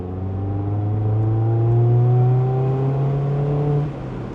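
A Mazda Miata accelerates steadily while driving. Its engine note climbs smoothly and loudly for about four seconds, then eases off near the end.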